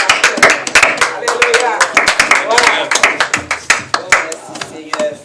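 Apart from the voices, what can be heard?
church congregation applauding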